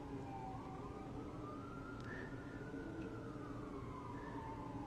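A wailing siren rises and falls steadily over a low, constant background rumble, sounding some distance away and continuing without a break.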